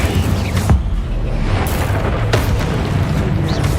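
A continuous roaring fire blast from the Incendio spell in Hogwarts Legacy, dense and loud throughout, with a couple of brief crackling bursts on top.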